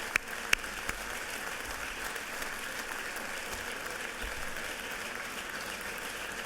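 Applause fills a state House chamber during a legislative session, a steady, fairly distant wash of clapping with a couple of sharp nearer claps at the start, held at an even moderate level.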